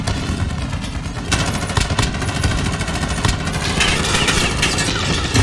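Machine gun fire in the Call of Duty: Modern Warfare game, loud continuous bursts of rapid automatic shots over a low engine rumble, close and sustained.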